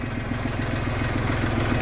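A tractor engine runs at very low rpm in second low gear while descending a slope, a steady close mechanical chugging with a regular pulsing beat.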